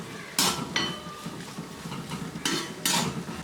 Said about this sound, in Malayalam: ഇനി ഇതിലേക്ക് നമുക്ക് ഈ അരിഞ്ഞു വെച്ചിരിക്കുന്ന കൊപ്ര ഇട്ട് വറുത്തെടുക്കാം.